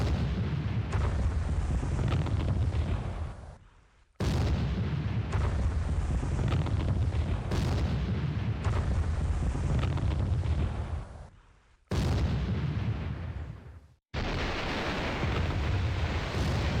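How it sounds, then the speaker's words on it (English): Naval bombardment explosions from a war strategy game set in the Spanish Civil War of 1936, heard as four long, loud roaring bursts. Each one rumbles and then cuts off sharply, with no talking over them. "Naval bombardment."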